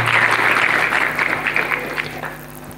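Audience applause at a college function honouring a PU science college principal, a dense steady clatter of clapping from many hands that holds throughout and slowly thins toward the end.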